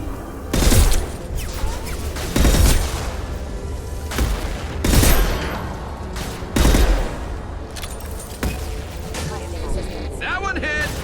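Rifle gunfire in the video game Mass Effect 2, several heavy booming shots spaced a couple of seconds apart over a constant rumbling background, with a voice talking.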